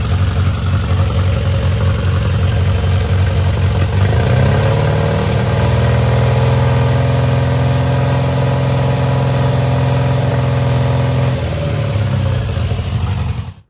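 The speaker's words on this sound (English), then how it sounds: "Let's rev it up a little." An Austin-Healey Sprite engine runs steadily at a loud idle, then revs up and holds a higher, even drone for several seconds before dropping back and cutting off, with no voices over it.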